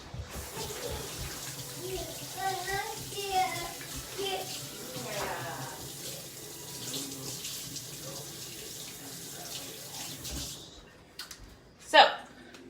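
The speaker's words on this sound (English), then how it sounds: "So let me rinse my hands off real quick." Hands being rinsed under a running kitchen tap while preparing low-carb pumpkin pie pecan bites, a steady wash of water running alongside voices, ending in a few louder splashes and a clatter near the end.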